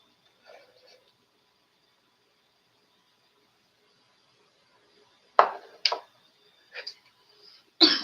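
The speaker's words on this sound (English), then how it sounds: "excuse me for any and all coughs" Several short coughs and throat-clearing bursts break a near-silent room, one faint noise early on, then four sharp, close bursts in the final few seconds.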